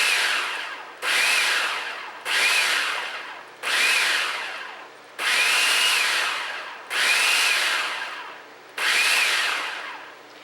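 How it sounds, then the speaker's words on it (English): A blender pulses eggs, fresh Silver Queen corn and buttermilk for Southern-style cornbread, seven whirring bursts of about a second each separated by brief pauses, close and steady, with no talking. "I'm going to pulse this. Just let the eggs and the corn and the buttermilk mix together."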